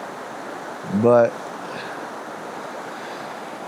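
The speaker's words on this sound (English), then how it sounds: "Walking through the rocky river was a little challenging, especially with the current." Steady rushing water of a rocky river's current fills the whole clip as an even broadband wash, with a man's short spoken word briefly rising above it near the start.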